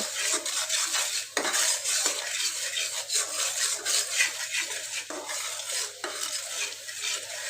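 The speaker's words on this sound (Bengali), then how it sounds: "দেখতে পাচ্ছেন আমি মশলাটাকে কষিয়ে নিচ্ছি" Spice paste with salt, turmeric and panch phoron is stir-fried in oil in a pan, with a continuous sizzle and repeated metal spatula scrapes against the pan, close up and without talk.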